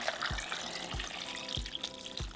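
Water runs steadily from a tap into a pot of tomatoes and dried chile de árbol, a continuous close splashing stream with a few soft low bumps.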